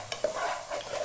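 Spice masala frying in a pan for egg rice, heard as a brief, quiet sizzle with a couple of light stirring scrapes.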